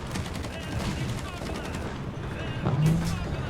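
Machine gun fire rattles in the War Thunder combat game, a dense, continuous stream of rapid shots under a steady engine-like rumble, close and fairly loud.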